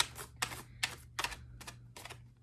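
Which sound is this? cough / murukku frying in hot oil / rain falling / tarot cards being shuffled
tarot cards being shuffled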